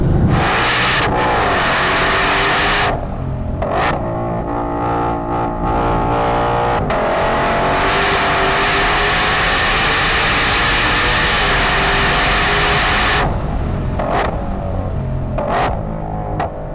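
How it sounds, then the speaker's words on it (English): A 2020 Ford Mustang Shelby GT500's V8 engine revs hard and loud, climbing and holding high pitch with brief drops between pulls, up close and continuous. "a 2020 GT500 actually making its proper noise"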